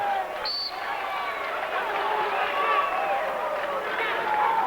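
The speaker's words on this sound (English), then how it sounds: "the crowd's getting into it a little now" Arena crowd at the 2002 Big Ten wrestling championship, a rising murmur and scattered cheering during a tight match, with a commentator talking over it.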